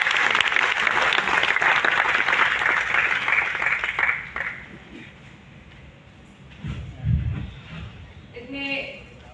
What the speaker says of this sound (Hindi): लोकसभा से माननीय सांसद तालियों के साथ स्वागत करेंगे श्रीमती शांभवी चौधरी जी का